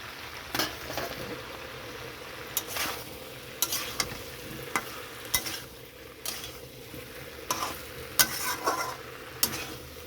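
Katla fish curry with yam, eggplant and pui shak stalks sizzles in a pan while a utensil scrapes and stirs it in irregular clinks, with a steady frying hiss underneath.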